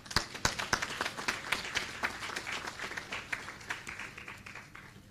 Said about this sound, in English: So we just wanted to give a round of applause to all the affiliates